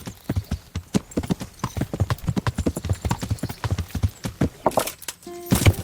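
Horse hooves clip-clop steadily in Kingdom Come Deliverance, a brisk, even rhythm of close, loud hoofbeats that runs throughout, with a faint whinny-like tone near the end.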